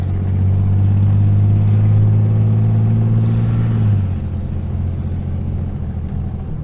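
A 1988 Jeep engine drones loud and close, steady for about four seconds, then drops in pitch and eases off as the transmission shifts, settling into a lower, rougher running hum.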